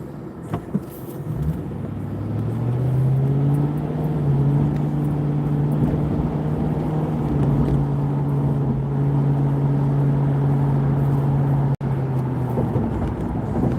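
A car drives along a road with a steady, droning engine and road hum that rises in pitch after a brief start, with a couple of faint knocks.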